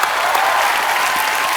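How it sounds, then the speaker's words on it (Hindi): A television comedy show studio audience gives Helen and Asha Parekh dense, loud, sustained applause, many hands clapping together close by without a break. "अच्छा भाई, एक बार हेलन जी और आशा जी के लिए जोरदार तालियां हो जाएं।"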